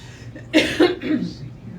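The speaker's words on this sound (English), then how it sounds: "Sorry, I didn't mean to cough on you." Two or three quick, harsh coughs in close succession, close to the microphone, followed by a softer throaty exhale.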